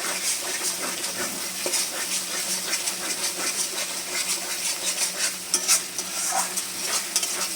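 Masala spice paste for a paneer curry fries in oil with steady, close sizzling while a utensil scrapes and stirs the pan in repeated strokes, with occasional metallic clinks.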